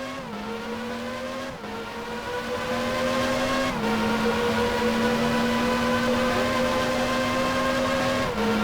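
A 1994 Formula 1 car in F1 Challenge 99-02 leaving the pit lane on a qualifying run, a loud close high-pitched engine whine climbing through the gears with sharp dips at each upshift.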